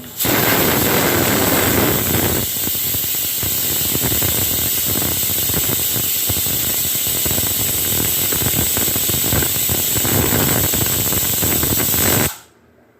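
A pressure cooker hisses loudly and steadily while mutton stew cooks inside, a continuous harsh jet of steam that holds for about twelve seconds before abruptly cutting off, with no voices.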